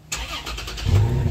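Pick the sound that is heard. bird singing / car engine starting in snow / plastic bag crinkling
car engine starting in snow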